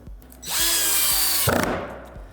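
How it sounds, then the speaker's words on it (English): An 18V cordless drill spins up with a rising whine, runs loud and steady for about a second, then changes pitch briefly before winding down, heard up close and alone. "I feel less confident with this drill."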